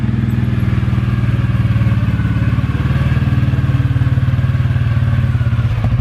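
A CF Moto quad drives up a residential driveway from the street gutter, its engine giving a steady, loud, close rumble with a rapid throbbing pulse and light clatter throughout, with no talk.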